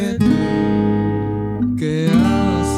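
Acoustic guitar chords strummed close up as a demonstration of a song: two or three ringing chords, each sustained before the next strum, with a brief pause between them.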